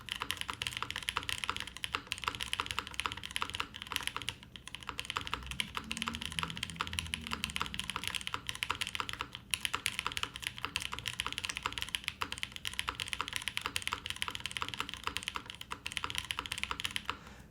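Steady, fast typing on a top-mount mechanical keyboard with an aluminum plate and a deep spacebar, heard up close with dense, even clacks running continuously.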